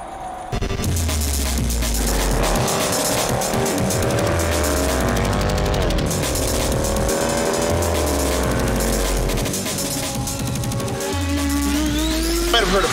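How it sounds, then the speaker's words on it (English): A rotary engine revs hard and repeatedly on a dyno, rising and falling in pitch with a buzzing, high-strung whine, loud and close throughout. "That's the rotary engine."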